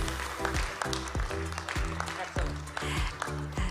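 Audience applause at a business forum plenary session, scattered clapping under a voice speaking over amplified sound, with uneven bursts and rhythmic thumps throughout.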